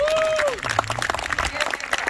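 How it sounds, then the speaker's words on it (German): A short burst of audience applause for Vivi at a falconry show outdoors, quick scattered clapping from a crowd, with a voice sounding briefly at the start. "Ganz kurzen Applaus an die Vivi."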